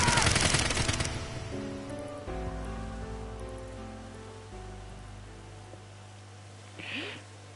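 A volley of gunfire erupts loudly at the start in AI: The Somnium Files, a dense burst of shots over a second, then fades into a low droning score with a brief faint cry near the end.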